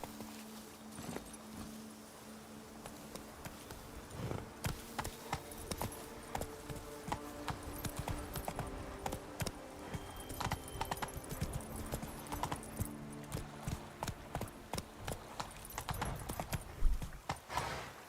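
A horse's hooves clip-clop steadily in Witcher 3, moderately close, as the game horse walks and trots, with faint background ambience and no speech.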